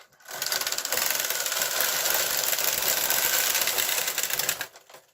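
Knitting machine carriage set to tuck both ways, pushed across the needle bed in one loud, close pass, a continuous rattling mechanical clatter that starts and stops abruptly.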